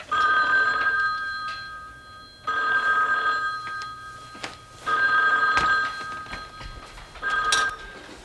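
A telephone rings in a 1983 Korean TV drama, sounding four clear, regularly spaced bursts of bright bell-like trilling, each lasting about a second, with quiet pauses between and no voices.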